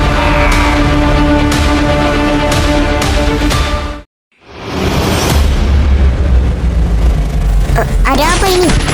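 Gunfire and explosions in a Free Fire short film: loud, dense rapid shots and booming blasts, a sudden cut to silence, then another roaring blast and whooshing effects, with a voice speaking over the chaos.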